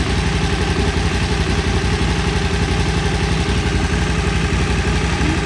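A close, loud KTM 990 Adventure motorcycle engine idles steadily, a continuous low rumble with a fast even pulse and some mechanical clatter; the bike has a throttle and stalling fault.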